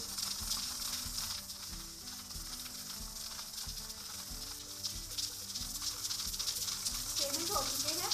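A pressure cooker on the stove with chicken inside, its weight rotating and letting out a steady close hiss with a faint rattling, mechanical ticking underneath, continuous for several seconds.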